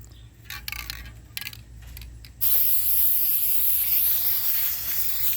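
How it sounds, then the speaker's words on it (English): A few faint rattles and clicks, then a loud, continuous spray-paint can hiss starts and runs steadily to the end, close by, as paint is sprayed onto a box. "okay, I'm going to spray it"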